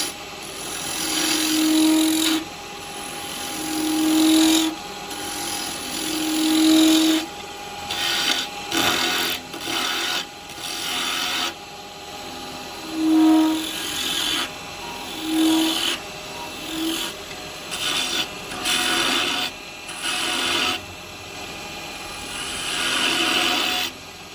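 A wooden spinning top is turned on a lathe with carbide tools, giving a loud, close scraping and rasping as the cutter bites in repeated passes, with a steady motor hum and short pauses between cuts.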